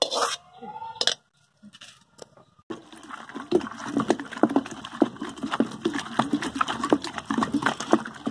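Ridge gourd chutney ground by hand in a traditional stone grinder, a steady run of rhythmic knocking and scraping strokes after a few sparse clatters, fairly close and unbroken by talk.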